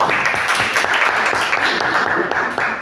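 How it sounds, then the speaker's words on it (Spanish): Audience applause after a talk on Egyptian myths and gods, a steady dense clapping from a room full of people lasting the whole stretch, fairly close and even in level, with no talk over it. "un aplauso para ellos"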